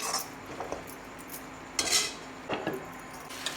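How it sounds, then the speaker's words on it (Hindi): Chili powder frying in a pan for a Chhattisgarhi curd saag with dried mango, quiet and close, with a soft sizzle under occasional metal spoon scrapes and clinks against the pan. "बढ़िया से भून लो 5 से 10 मिनट तक।"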